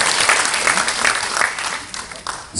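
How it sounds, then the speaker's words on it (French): Dense, loud audience applause fills the room, a continuous wash of many hands clapping that swells and dips slightly without pause. "Vos applaudissements constituent votre premier salaire"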